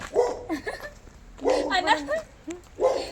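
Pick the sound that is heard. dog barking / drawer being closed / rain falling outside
dog barking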